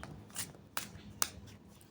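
Tarot cards flick and snap softly in a few quick, sharp bursts as they are shuffled and a card is drawn, quiet and close with no voice.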